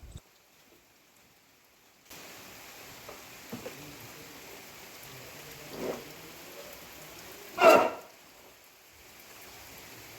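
Steady, soft rain hiss begins after a quiet opening and continues evenly, with a few faint taps and two louder brief gusts or splashes standing out nearby.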